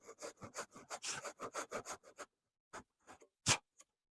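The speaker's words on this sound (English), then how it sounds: "And on that, I'm going to run a kerf line down here." A hand saw cuts a kerf line in wood for a half lap joint. Quick, regular rasping strokes come close and crisp, then stop, followed by a few scattered single strokes and taps.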